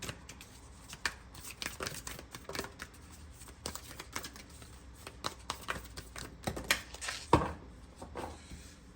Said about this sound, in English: let's go ahead and do another quick shuffle for that.